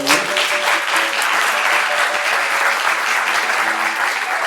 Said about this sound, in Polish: pani Anna Kumanek, także też wielkie brawa dla pani.